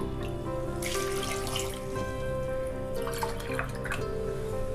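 Water is poured into palm jaggery in a kitchen while making a Diwali sweet, a continuous splashing trickle with brief gushes, heard over a steady background tone.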